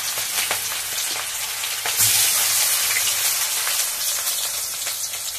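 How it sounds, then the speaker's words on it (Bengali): Cumin seeds and bay leaves sizzling in a generous pour of hot oil, a steady close crackling hiss with scattered pops that swells briefly partway through. "জিরে আর তেজপাতা ফোড়নে দিলাম, তেল দিয়েছি"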